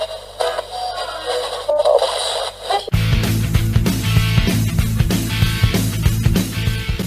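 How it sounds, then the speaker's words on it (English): A local radio station comes in with a good signal: faint hiss and crackle at first, then loud music with only a little static bursts in and plays on steadily. "this gives you a good signal, for example, loud music and only little static noise"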